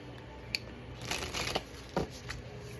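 Tarot cards being shuffled by hand in a few soft riffling bursts, close and quiet, with brief pauses between.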